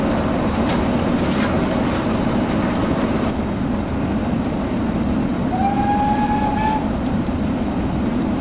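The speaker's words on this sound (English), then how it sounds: "I love the whistle on this thing, it just sounds delightful." Steam locomotive 926 Repton in a train simulator sounds a long whistle near the end, a sustained clear tone over a loud steady rumble of the running engine and rolling wheels.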